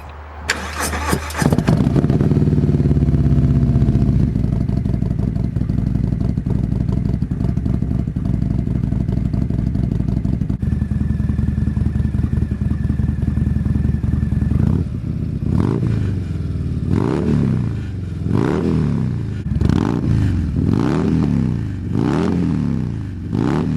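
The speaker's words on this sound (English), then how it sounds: "we've got these S&S slip-ons, which should sound pretty sweet" A Harley-Davidson Fat Bob 117 Stage 3 motorcycle with S&S slip-on exhausts starts up close by, idles with a deep, throaty rumble, then is revved repeatedly in sharp, loud bursts.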